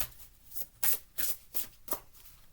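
A deck of tarot cards is shuffled by hand in four or five quick riffling bursts, each a crisp papery flutter. The shuffling is close, clear and unaccompanied by talk.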